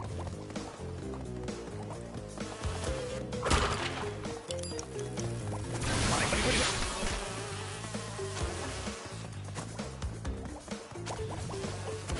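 Bees buzz through a level of the Crash Bandicoot 2: Cortex Strikes Back video game, a dense, steady insect drone over bright game music, rising in a louder burst near the middle before settling back.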